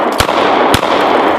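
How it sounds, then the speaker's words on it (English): Two sharp, loud gunshots from a Rex Zero 1 CP 9mm pistol fired outdoors at a clay pot, about half a second apart, each a sudden crack over steady background noise. "What wants to get shot? How about that piece of clay pot right there?"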